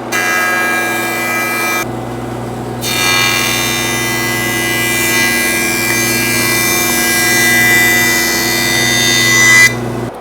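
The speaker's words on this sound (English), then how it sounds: "when you're jointing this, what you want to do is you want to go far enough down that you take off the radius corner on the 2x4" A jointer runs as a 2x4 is fed across it to square off the rounded corners, giving a loud, steady machine whine with a short quiet gap near the start, then a long continuous cut.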